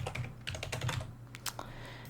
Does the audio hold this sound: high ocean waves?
no